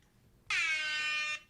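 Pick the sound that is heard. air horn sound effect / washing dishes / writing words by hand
air horn sound effect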